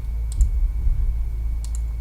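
Crisp computer mouse clicks in two quick pairs, one near the start and one near the end, over a low steady hum while copying and pasting in MS Word.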